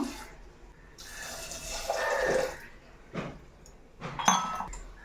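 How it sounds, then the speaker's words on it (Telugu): Water is poured into a metal pressure cooker holding chana dal in two separate bursts, splashing and gurgling up close, with brief quiet gaps between them. "రెండు కప్పులు అయితే నీళ్ళు పోసుకుంటున్నాను"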